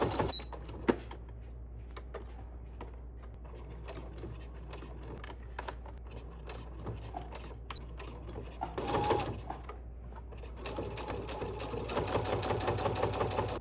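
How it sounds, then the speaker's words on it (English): A home sewing machine stitches fabric for a birthday crown in short, quiet bursts with small mechanical clicks between runs, ending in a longer continuous run. "I'm just making sure that as I'm sewing, the edge of my foot is on the raw edge of my fabric"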